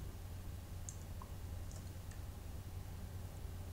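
A few soft, separate computer mouse clicks in Excel, quiet and close, spaced irregularly over a steady low hum, with no talking.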